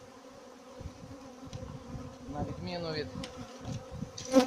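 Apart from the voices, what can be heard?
honey bees buzzing around a hive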